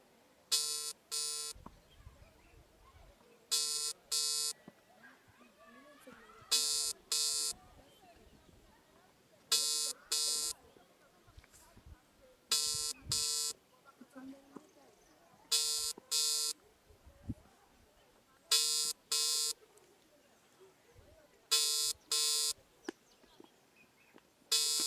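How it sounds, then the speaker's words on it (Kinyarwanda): Telephone ringback tone repeating in regular double bursts, about six cycles with pauses between, while the call goes unanswered; faint background murmur underneath. "Murumva ko n'umuyobozi w'akarere atitaba telefone."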